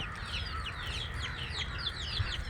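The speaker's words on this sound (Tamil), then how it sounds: "இவ்வளோ இருக்காங்க கோழிங்க" Many chickens cluck softly together in a steady, continuous chorus over a low background rumble, no voices.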